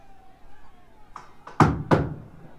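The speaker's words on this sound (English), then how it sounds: "The secret knock." Knocks on a door in a bunker setting, a couple of soft taps followed by two louder, heavier thumps, close by, with faint murmuring underneath.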